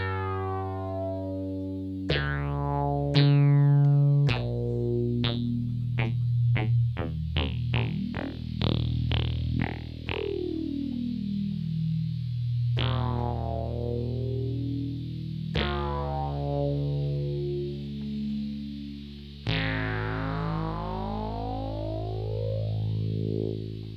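Synthesizer notes and sweeping tones pass through a modular analog chorus effect, thick and warbling, with buzzy distortion and a noisy hiss beneath.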